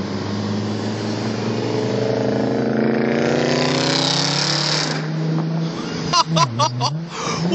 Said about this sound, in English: I can hear it growling though.